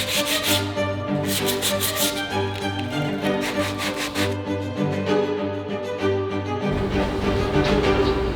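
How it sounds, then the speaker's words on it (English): A wooden table leg is hand sanded with steady, rhythmic rubbing strokes, close and continuous, the abrasive scratch pulsing in regular passes with a low hum in the background. "I actually have 1 leg left to finish sanding"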